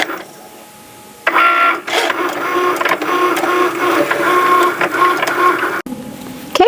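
After a short quiet start, a Cricut cutting machine whirs and buzzes as it cuts a laminated sticker sheet, making a loud motorized drone with rhythmic shifting tones and small clicks that stops abruptly near the end.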